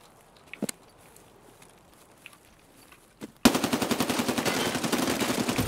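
Automatic gunfire in the video game Escape from Tarkov: after a quiet stretch with a few faint clicks, a loud, sustained rapid burst of shots erupts and continues steadily to the end.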